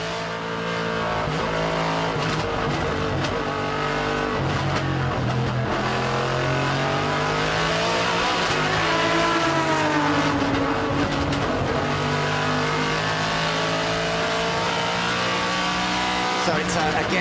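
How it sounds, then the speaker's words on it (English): A Nissan GT-R GT1 race car's V8 engine rumbles loud and close during a FIA GT1 race at the Sachsenring, rising and falling through gear changes with a deep, NASCAR-like growl. Commentators talk over it throughout. "So it's a big rumbling V8, almost NASCAR-like in the sound"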